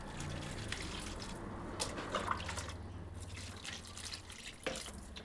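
Water poured from a bucket into plant pots, heard as a continuous close splashing and trickling wash with scattered drips and a few louder gushes, without speech.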